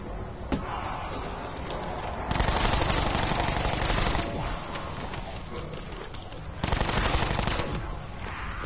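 Rapid automatic gunfire in a video game, bursts of continuous shooting with louder surges, explosions and impacts in between, loud and dense throughout.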